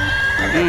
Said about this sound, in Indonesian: Yang ini ada kuda zebra.